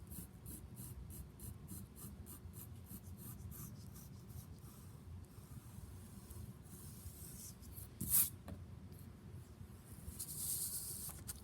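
A pencil draws lightly on paper in a faint, continuous scratching, with soft repeated strokes close by and one brief louder tap partway through.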